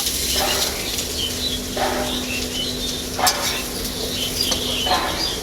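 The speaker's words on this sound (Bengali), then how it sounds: "এঁচড়টাও আমি তেলের মধ্যে খুব ভালো করে ভেজে নিয়েছি" Jackfruit frying in mustard oil in a kadai gives a steady sizzle with occasional stirring scrapes and clinks of utensil on pan, plus a faint low hum underneath.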